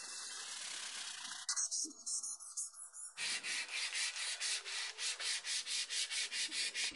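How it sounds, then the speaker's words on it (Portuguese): Hardened leveling compound on a boat hull is sanded by hand, first in a smooth continuous scrape, then in regular rhythmic back-and-forth strokes, close and steady. "Então é o dia seguinte, todo esse composto de nivelamento está duro agora. Então vou começar a lixá-lo até ficar liso."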